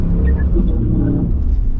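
Loud, steady roar of a 702 hp Dodge Ram TRX pickup's engine driving the Nürburgring Nordschleife, a heavy low rumble filling the whole stretch at close range with voices faintly mixed in.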